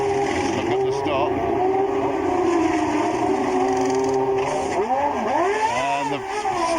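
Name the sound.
Formula One race cars in the pit lane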